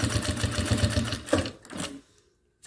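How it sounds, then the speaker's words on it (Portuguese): A sewing machine runs a quick safety seam across a pencil-case panel, a steady rapid mechanical stitching rhythm for about two seconds that then stops into near silence. "vou passar uma costura aqui de segurança"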